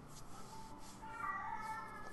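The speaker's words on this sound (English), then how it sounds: "My cat's meowing because he ate." A house cat meows after eating, a short drawn-out cry in the middle of the moment, fairly quiet and close over a faint background hiss.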